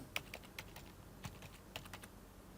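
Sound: typing a password on a computer keyboard

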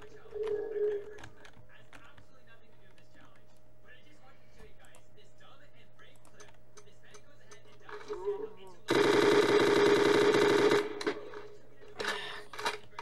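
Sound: machine gun fire in Garry's Mod video game

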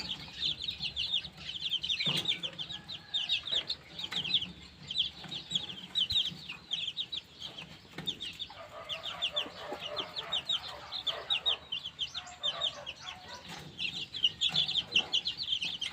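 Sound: bantam chickens clucking

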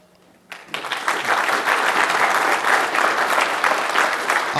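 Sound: audience applause after a talk

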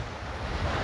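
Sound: sea waves breaking on the beach

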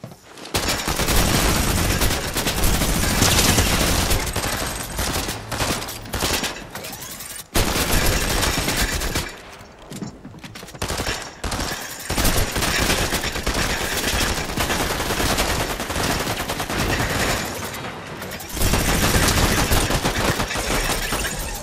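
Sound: Gatling gun firing in Fortnite video game

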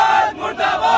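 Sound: protest crowd chanting slogans against municipal corporation

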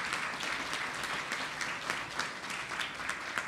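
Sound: audience applause for teachers

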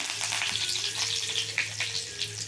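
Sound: curry leaves frying in a pan

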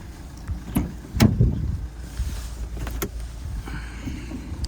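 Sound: Renault Grand Scenic hood being opened

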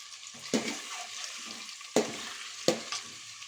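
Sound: frying eggs with salt and turmeric in a pan

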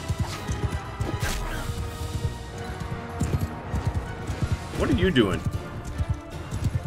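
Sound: horse hooves galloping in video game Mount and Blade Bannerlord

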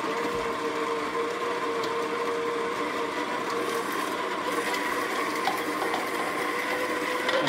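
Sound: Baratza Virtuoso grinder grinding decaf espresso beans

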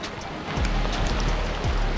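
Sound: heavy rain downpour

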